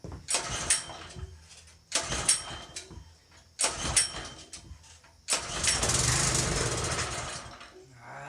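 A trash-picked pressure washer's small engine is cranked several times in short loud bursts, then fires and sputters roughly for a few seconds before faltering, all close by with no talking.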